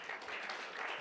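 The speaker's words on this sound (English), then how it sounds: "give all of us a big round of applause" A large audience claps at a corporate gathering, a brief, even swell of applause with no pauses.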